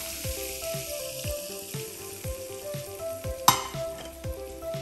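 Hot olive oil hits fish sauce, sugar and chili powder for a zucchini salad, crackling and sizzling close by with repeated scraping stirs and one sharp clink near the end.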